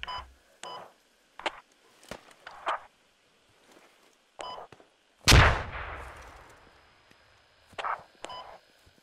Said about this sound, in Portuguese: Tem um cara aqui embaixo que ele até tá atirando direto em quem nasce aqui